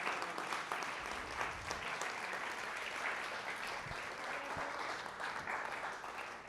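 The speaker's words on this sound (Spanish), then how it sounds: "Dele un aplauso al Señor si se lo quiere dar." Steady applause fills a church as the congregation claps together for several seconds, a dense, even patter at moderate distance with faint crowd murmur beneath.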